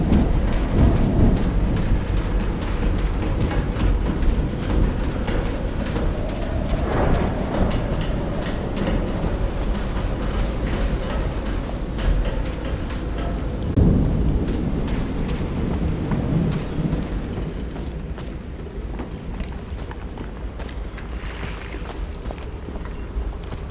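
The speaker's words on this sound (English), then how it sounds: "I used to cover myself with the sheets to not listen to the noise of thunder" A continuous thunderstorm from the video game Call of the Sea, with low rumbling thunder and a heavy rushing wash of rain and wind that hold steady throughout, swelling now and then, with no voices.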